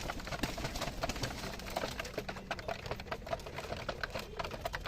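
Domestic giribaj pigeons, young birds learning to peck maize, coo softly amid faint scattered pecking clicks in a quiet, low-level backdrop.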